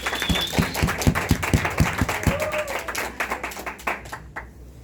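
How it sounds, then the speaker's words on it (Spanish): Audience applause at a talk, beginning with a few loud, regular close claps that blend into a denser crowd clapping, then gradually thinning and fading out toward the end. "Así que por favor devuélvanle un fuerte aplauso a Natalia."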